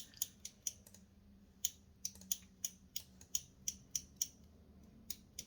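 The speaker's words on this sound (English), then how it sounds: "that's me clicking my scissors" Scissors clicked repeatedly as a fidget, a run of sharp, crisp metallic snips in an uneven rhythm, close and fairly quiet with no voices.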